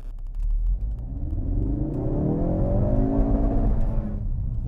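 A Ford Focus RS pulls away in first gear, its engine note climbing steadily in pitch and volume over a few seconds with a strong rumbling growl, before easing off abruptly at the end.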